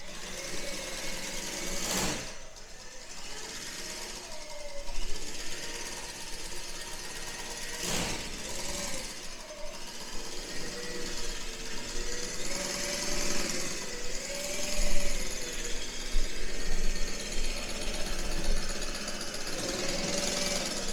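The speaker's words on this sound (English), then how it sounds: "basically with this thing, I can hit my drill." A drill runs continuously on a workbench motor-mount setup for an SCX24 RC crawler brushless motor, a loud steady whirring buzz with a couple of sharp knocks and slight shifts in pitch as it works.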